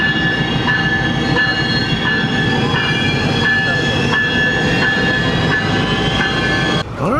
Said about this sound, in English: the train has scooted out of the way